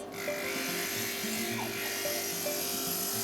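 A small electric rotary tool grinds down the edge of a piece of sea glass, making a continuous high-pitched whine and buzz that varies slightly in pitch as it cuts, with steady loudness throughout.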